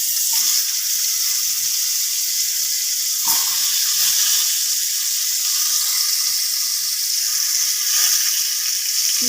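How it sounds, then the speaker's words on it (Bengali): Potato and raw green banana fry in hot oil seasoned with radhuni and two bay leaves for Bengali shukto, giving a steady, loud, close sizzle with a few soft stirring knocks and no voices. "তেলে আমি আলু আর কাঁচা কলাটা একটু সাঁতলে নেব।"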